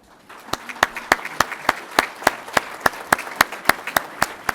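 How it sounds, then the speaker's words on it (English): At a volunteer fire and rescue awards ceremony, the audience claps in a steady, evenly spaced rhythm, sharp distinct beats about three per second rising from a quiet start and holding steady. "I'd like to give you guys a round of applause for making this such a great event for us."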